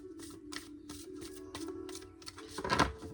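Tarot cards are riffled and shuffled in quick repeated bursts of crisp papery flutter, close up, building to a louder final shuffle.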